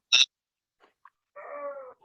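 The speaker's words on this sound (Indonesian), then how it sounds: "Kucing." A cat makes a short, sharp cry and then a longer, wavering meow a moment later, heard indoors during an online teaching session. Both calls are fairly faint, with quiet gaps between them.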